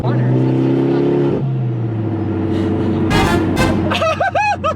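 A turbocharged Mitsubishi Lancer Evolution X engine revs hard up close, then sharp bursts of hissing and fluttering from the external wastegate opening around 4,000 RPM over the rising engine note.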